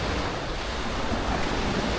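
Ocean surf at Playa del Carmen washes up against a building's damaged foundation, a steady, loud roar of water and wind with no talk.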